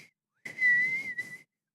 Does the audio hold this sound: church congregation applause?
no